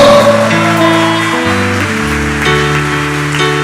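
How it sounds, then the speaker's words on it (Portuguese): A church congregation claps during a worship service, a broad patter of hands blending with sustained keyboard chords that shift throughout, steady and fairly loud. "Então dê um aplauso ao Senhor"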